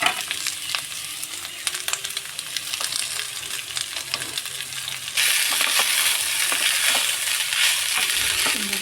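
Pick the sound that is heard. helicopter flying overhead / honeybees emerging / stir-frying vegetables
stir-frying vegetables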